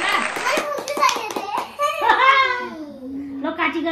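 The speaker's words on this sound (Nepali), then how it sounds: "ताली" Rapid hand clapping at a child's birthday celebration, a quick run of claps up close mixed with a voice and giggles, with adults talking.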